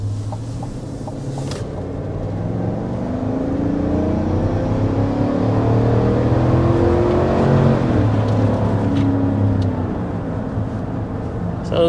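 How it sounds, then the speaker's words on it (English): A 2025 GMC Yukon V8 accelerates hard toward 60 mph, engine note climbing through rising gear sweeps with shifts along the way, heard from inside with road noise underneath and no speech. "we're going to go ahead and start with a hard acceleration."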